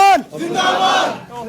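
A brief lead shout of "Azad Hindustan" in Hindi, then a crowd at a political rally yells the chant in unison, loud and close, ending with a voice starting again.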